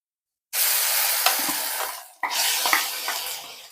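Ground pirandai (veldt grape) paste drops into a hot pan with curry leaves for thuvaiyal, setting off a loud, close sizzle and hiss that stops briefly, then bursts up again with crackling spatters.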